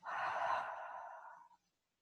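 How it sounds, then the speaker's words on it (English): A single long exhale pushed out through the mouth during a gentle yoga session, breathy and close, swelling quickly then fading over about a second and a half into silence. "letting the exhale out through the mouth"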